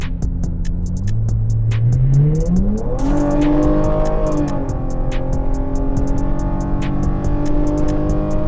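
A Dodge Challenger V6 fitted with aftermarket coil packs and an intake manifold accelerates uphill, its loud engine droning steadily and rising in pitch through the revs, with a shift and another climb, heard from inside the car.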